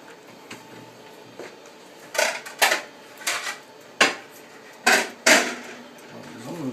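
Dishes clatter nearby as serving plates are taken out in a kitchen, a handful of sharp knocks and clinks spaced irregularly over a quiet background, with no speech.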